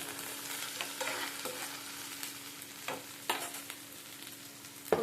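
Onions fry in oil with green chillies and cardamom, a quiet continuous sizzle broken by several scraping stirs of a spoon in the pan.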